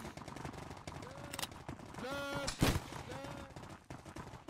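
Gunfire volleys crack out in a Roblox warfare game, a few sharp shots with one loud report near the middle, amid game sounds and background chatter.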